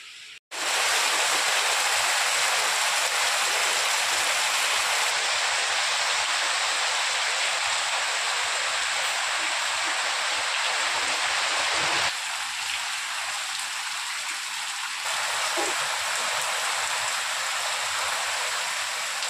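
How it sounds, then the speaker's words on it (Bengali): Steady, even hiss of light rain falling, continuous and fairly loud throughout, with no voices. "বৃষ্টিও টিপটাপ পড়ছে"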